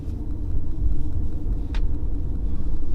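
A car speeds up during a driving lesson on a city street, its engine a low, steady rumble from inside the cabin with a brief click partway through and no talk.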